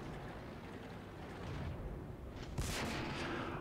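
A Churchill tank's main gun fires once in World of Tanks, a single sharp boom with a broad crack that rings out over a steady backdrop of battle rumble.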